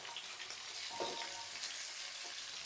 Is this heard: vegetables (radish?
yes